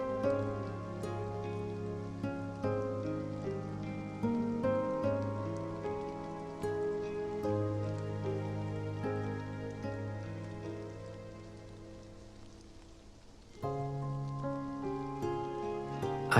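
Steady rain falls in the game Tainted Cuts, a continuous soft patter that lasts throughout under sustained, gentle tonal music, which dips briefly before returning.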